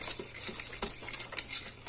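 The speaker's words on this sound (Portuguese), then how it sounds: "Agora vamos pegar a pazinha e mexer." A small spatula works through slime in quick, soft squelching strokes, a few wet pops and clicks spread over a couple of seconds, close and fairly quiet.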